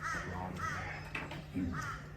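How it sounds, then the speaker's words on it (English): A crow caws three times in separate, hoarse calls, moderately close over a quiet background, with no speech. "Of course we have a crow."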